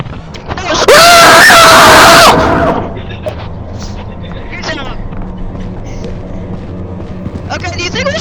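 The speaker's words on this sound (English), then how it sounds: "I want you to scream into the microphone." A person screams loudly into a microphone for about two seconds, a harsh sustained shriek that clips and then drops away, with quieter room noise and brief voice sounds after it.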